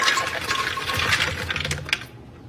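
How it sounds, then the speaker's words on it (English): About two and a half cups of walnuts pour into a container, a brief rattling clatter of many small hard pieces landing close by that thins out toward the end. "We got 2½ cup of walnuts going in."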